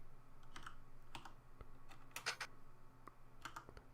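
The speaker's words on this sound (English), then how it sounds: "I'm typing using my middle finger here and trying not to click too much" Light, careful typing on a computer keyboard, soft scattered key clicks in small irregular bursts over a quiet background hum.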